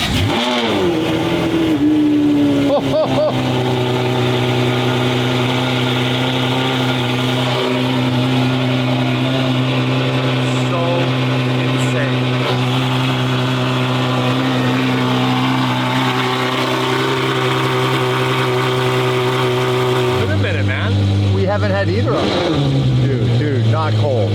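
A Porsche engine idles and revs close by, holding a steady loud drone with rises in pitch and a sharp change near the end; people talk faintly beneath it.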